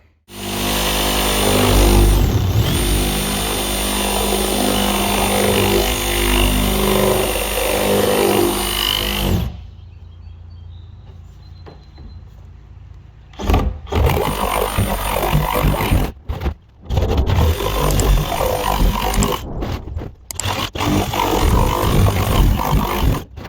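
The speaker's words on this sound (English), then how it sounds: "I just used the reciprocating saw again with the bimetal cutting blade, just like I used on the cage" Reciprocating saw fitted with a bimetal blade cuts through the metal cage of an IBC tote, a loud harsh buzzing drone that stops for a few seconds, then returns in choppy bursts with short gaps.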